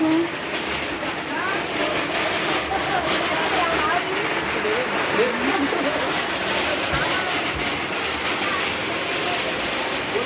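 Steady rain patters and hisses on a leaking hut nearby with wind, a continuous wash of drops, with voices talking faintly over it.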